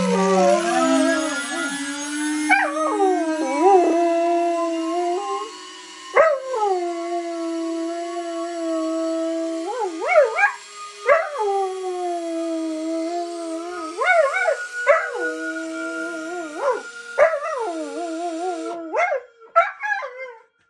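A dog howls along to a cigar box guitar, long wavering tonal howls rising and falling in repeated phrases with short yips between them, loud and close, with no talking.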